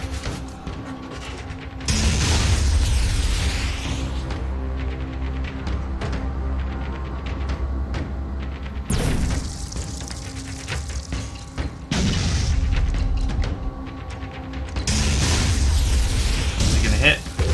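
Artillery fire and explosions in the video game Phoenix Point, heavy booms and bursts arriving in several loud waves with mechanical clanks between them, while a voice talks over parts of it.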